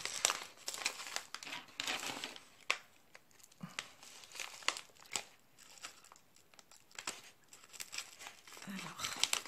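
Parcel packaging being opened carefully, with close, quiet crinkling and rustling in irregular bursts, plus a few soft tearing sounds.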